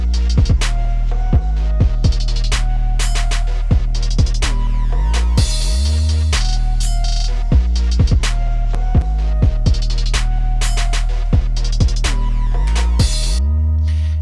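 A slow, creepy hip-hop beat carries a synth counter melody, sustained tones sliding down in pitch over deep bass hits and sharp percussive strikes, loud and continuous without any voice.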